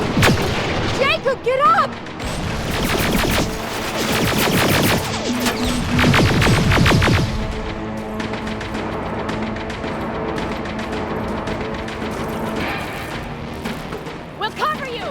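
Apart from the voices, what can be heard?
gunfire in the video game Terminator: Resistance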